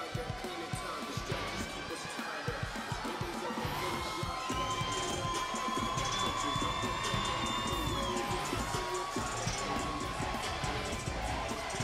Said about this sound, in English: A lot of crowd support for Micah White